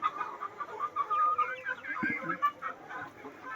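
Several chickens and roosters, mostly roosters, cluck and chatter close by, a busy overlapping flock sound with occasional louder calls.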